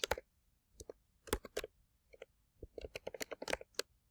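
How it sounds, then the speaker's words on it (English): Keyboard typing close by: scattered, irregular key clicks in short bursts with brief pauses, quiet and without talk. "I'm just going to type in my name. I'll type in our class."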